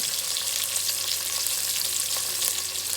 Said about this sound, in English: अच्छा सा फ्राई कर लेते हैं